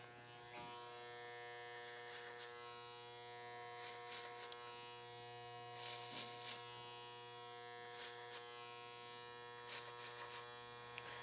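An electric trimmer cuts a beard over a comb with a close, steady buzz and a few brief bursts where the blades bite into hair.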